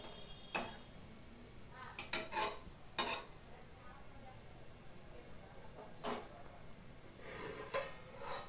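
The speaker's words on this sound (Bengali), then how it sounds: "খুব ভালোভাবে নেড়ে নিচ্ছি বন্ধুরা।" A spoon scrapes and clatters against a frying pan as leafy greens are stirred, several sharp metallic clinks spaced irregularly over a quiet background with no talking.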